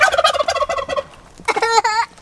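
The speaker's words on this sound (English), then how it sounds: "You feel that when they gobble like there?" Turkey gobbling up close: two loud rapid warbling gobbles, each about a second long, separated by a short pause.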